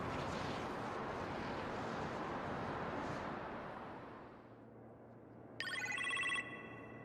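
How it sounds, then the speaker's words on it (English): Phone ringing in the video game Marvel's Iron Man VR: a short electronic ring lasting under a second rises out of a rumbling game soundscape that fades and settles into a low hum before the ring. "You appear to have a phone call in the kitchen, sir."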